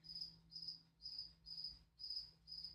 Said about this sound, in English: I have a cricket in the house.